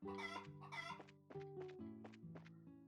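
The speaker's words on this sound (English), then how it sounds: "Dang it, chickens, get back here." Chickens clucking in the video game Trails in the Sky, a string of tonal clucks and short squawks in a steady rhythm, close and clear with no talking.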